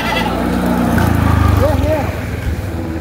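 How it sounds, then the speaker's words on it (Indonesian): Goats in a pen at a mosque during a sacrificial livestock event let out a wavering bleat amid a loud, rumbling crowd and engine-like background noise. "Ini kambing."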